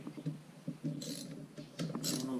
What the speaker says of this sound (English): And we'll torque it all down.